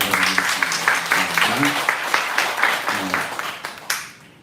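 A church congregation gives a round of steady, dense applause, fairly close and loud, with someone speaking briefly over it before it tapers off.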